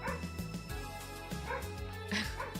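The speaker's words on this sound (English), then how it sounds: "Oh, my dog's barking." A loud pet dog barks in sharp, repeated bursts close by, the barks running almost continuously with a few yips mixed in.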